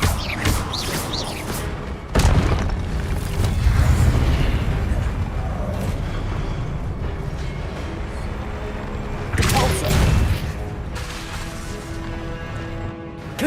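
An Expelliarmus spell cast in combat in Hogwarts Legacy produces heavy crashing impacts and booming thuds over a dense battle din, with two stronger bursts separated by steady rumbling noise and a possible voice in the mix.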